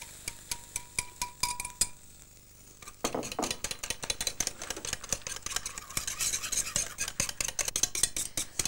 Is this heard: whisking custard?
yes